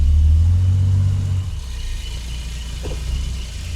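A Plymouth Valiant fitted with 2-inch drop spindles rumbles as it pulls forward, a loud low engine drone that eases off after the first second and a half, then settles into a steady idle-like hum.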